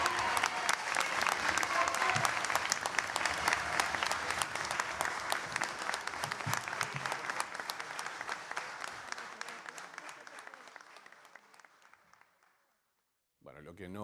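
Sustained applause after a politician's statement, steady dense clapping from a crowd that gradually thins and fades out before a brief cut to another sound at the end.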